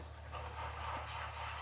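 An airbrush sprays paint onto a thin crankbait lure in a steady, continuous hiss that stays close and even throughout, with no voices.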